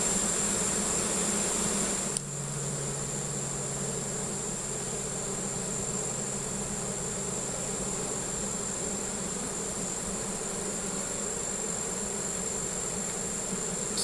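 Honeybees fan inside a hive, making a close, continuous droning buzz that stays steady from start to finish with no voices.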